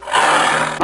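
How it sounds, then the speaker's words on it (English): A single loud, broad roar from a big cat, rough and sustained for under a second before cutting off. "T for tiger and L for lion."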